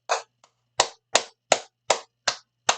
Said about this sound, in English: I'm just clapping to congratulate a young nigga for getting some ass.